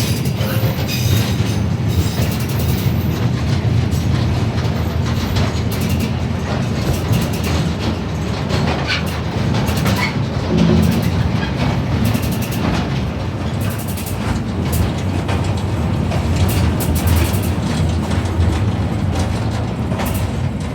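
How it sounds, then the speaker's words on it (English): A rail maintenance vehicle rumbles and clatters over uneven, tightly curving track in Kalaw, Myanmar, for a long stretch, with metallic wheel squeals breaking through the continuous noise. "the track curvature is very tight, resulting in a lot of squealing sounds from the train wheels"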